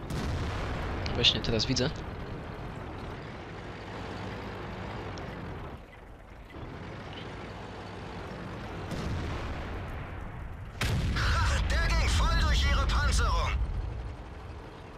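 Tank cannon shots boom in World of Tanks amid the rumble of engines and tracks, a sharp blast early and a heavier one near the end, with someone speaking Polish over the battle.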